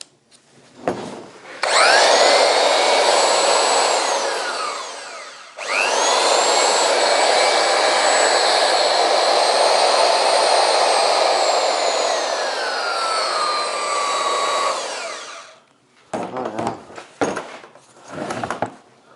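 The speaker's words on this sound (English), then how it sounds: "It feels as smooth as anything, that motor." An old, little-used power tool motor runs smoothly, first in a short burst and then in a longer run of about ten seconds, with its whine shifting in pitch before it spins down, followed by a few clattering handling sounds.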